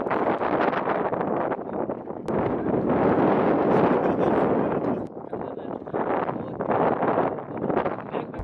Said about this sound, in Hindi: यहाँ पर हवा बहुत ही ज़्यादा तेज़ चल रही है।